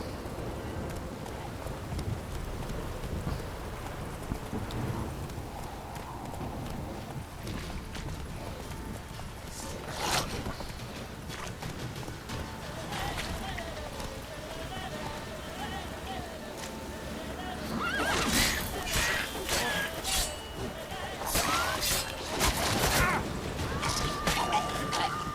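Geralt's horse Roach in Witcher 3, hoofbeats clip-clopping under rain and rumbling weather sounds, with someone talking over much of it and louder bursts near the end; no clear neigh stands out.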